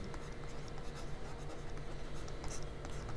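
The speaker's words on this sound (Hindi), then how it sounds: "अब देखिए यहाँ पे फिर से लिखेंगे" Writing on a board during a Class 10 maths lesson on real numbers, a steady scratchy stroking that runs alone for about three seconds at moderate, close level.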